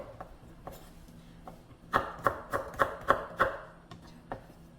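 A knife chops a carrot on a cutting board: scattered single taps, then a quick run of about six firm, evenly spaced chops before a few lighter taps trail off.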